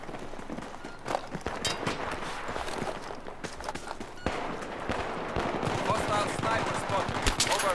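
Rapid Battlefield 3 gunfire crackles in bursts over a busy, noisy backdrop, with running footsteps and occasional talk mixed in.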